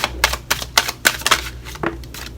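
A stack of tarot cards being shuffled, several quick papery riffles and slaps in an irregular rhythm, close by with no talking.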